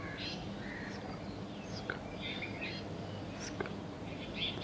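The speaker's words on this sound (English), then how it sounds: "birds chirping" Birds chirp in a forest, a few scattered tweets and short calls rising faintly over a steady hiss of background noise, with no talk.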